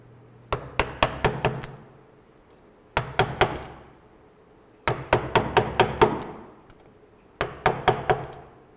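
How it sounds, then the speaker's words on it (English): A mallet taps a chisel while a woodworker carves a shell into a wooden drawer front: sharp, close knocks in quick bursts of five or six blows, each burst separated by a short pause, with no talking. "Just a very little bit around the circle because you got to chisel deeper."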